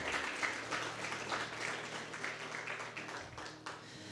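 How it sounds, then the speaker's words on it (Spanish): A church congregation applauds during a sermon, a soft, distant wash of many hands clapping together, steady and fairly faint, with no voices over it. "Dale un aplauso"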